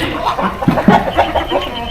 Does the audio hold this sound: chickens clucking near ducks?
yes